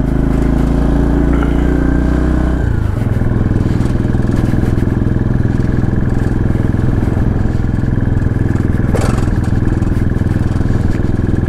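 Motorcycle engine running steadily throughout a ride on a mountain route toward Lo Manthang, loud and close with a strong low drone, the note dropping and settling just before three seconds, then droning on as wind rushes past.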